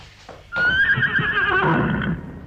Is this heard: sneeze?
no